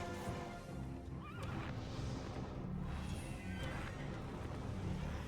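A horse in the Heroes of Might and Magic 5.5 video game gives a loud, wavering neigh over a dense layer of game music and effects, with hooves clip-clopping beneath it.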